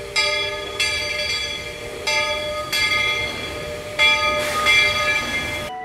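A train at the Frontierland railway station in Magic Kingdom sounds repeated bright, ringing, tonal blasts that restart every second or two, loud and close, with no talk.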